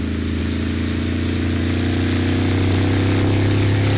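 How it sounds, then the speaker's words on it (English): A small engine in the HTC Vive Bellows VR demo drones loud and steady, rough and buzzy like a lawnmower running close by. "Sounds like a lawnmower."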